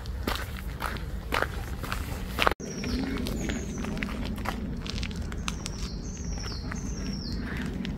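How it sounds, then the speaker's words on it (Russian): Birds sing along a shaded lakeside path on a hot day, with several thin chirps and short whistled calls over steady footsteps on the path and faint background ambience. "Здесь птички поют."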